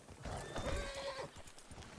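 In a ranch video game, a horse gives a single whinny over soft, quick clip-clop hoofbeats. The sound is faint and distant.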